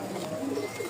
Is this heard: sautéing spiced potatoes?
no